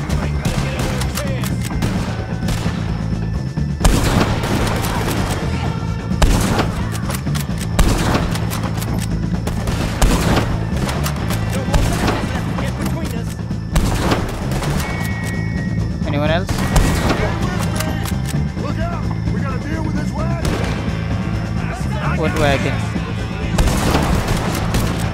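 Repeated gunfire from shootouts in Red Dead Redemption 2 on PC, sharp loud cracks and bursts recurring throughout over steady game music and ambience, with people talking.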